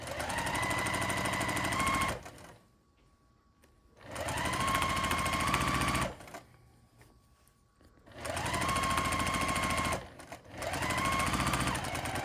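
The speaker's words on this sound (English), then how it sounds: "then we're gonna sew down this side, like I said, with a 1/4 inch seam allowance" A sewing machine stitches a quarter-inch seam down the side of a tote bag's inner slip, running in three steady whirring bursts separated by short quiet pauses, close up.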